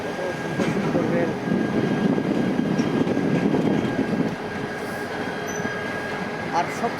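Trains at Kamalapur railway station in Dhaka, a loud, steady rumble of rolling rail cars with faint squeals, easing slightly toward the end against a murmur of station voices.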